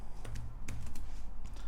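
Computer keyboard typing while entering Linux terminal commands after a Kali Linux Light installation: a short run of quick, close key clicks with uneven spacing over a faint low hum.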